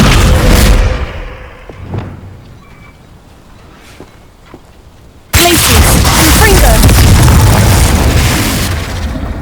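A Descendo spell slams down in Hogwarts Legacy at a family estate, a heavy booming impact that cuts in abruptly and rumbles loud and sustained after quieter spell effects and brief thuds.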